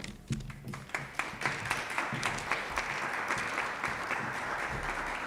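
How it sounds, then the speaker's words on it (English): Audience applause after a speech at a public speaking competition final, starting as scattered claps and building into steady, sustained clapping from a moderate-sized crowd. "A round of applause for these doctors."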